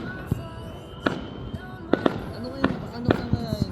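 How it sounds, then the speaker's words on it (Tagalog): Fireworks explode at a New Year celebration, a string of sharp bangs and crackles at irregular intervals, some near and loud, others further off, with people talking over them. "Maraming fireworks dun."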